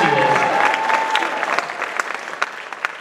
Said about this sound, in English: That's where you cheer for Skylar, right